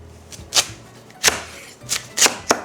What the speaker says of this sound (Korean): 이제 무를 원하는 나박 두께로 맞춰 주시고요. 슬라이스로 썰어 주세요.